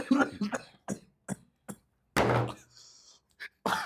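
A single sharp cough bursts out amid short broken vocal sounds, close and loud, followed by a brief quieter tail.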